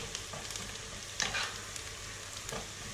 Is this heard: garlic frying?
yes